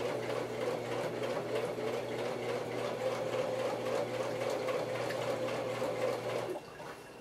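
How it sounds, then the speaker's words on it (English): A sewing machine stitching the edge of a pocket on a handmade handbag, running in a steady continuous whir for about six and a half seconds before stopping, fairly quiet and with no voices. "start sewing and miss the edge of my pocket"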